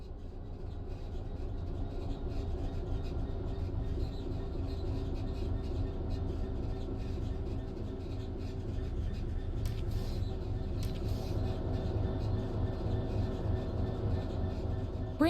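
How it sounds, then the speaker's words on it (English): A train in the Train Sim World 3 simulator coasts on level rails with the throttle closed, giving a steady low rumble and faint rail rub that carries on evenly throughout, with no talking over it. "The train will then coast on level ground, and the train will only slow down very gradually."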